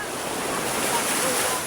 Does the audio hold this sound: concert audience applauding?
no